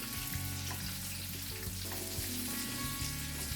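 Salmon fries in lemon garlic butter in a pan, giving a steady, dense sizzle with soft crackles throughout, and background music plays under it.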